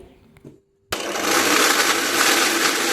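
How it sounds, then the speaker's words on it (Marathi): After a brief quiet moment, a mixer grinder whirs on abruptly, grinding torn pieces of leftover roti, and keeps up a loud, steady grinding roar to the end. "असे हाताने बारीक तुकडे करून आपल्याला मिक्सरमध्ये फिरून घ्यायचे आहे"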